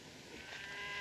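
Cattle on a western ranch let out a single low, drawn-out moo that swells in loudness over about a second, with no talk.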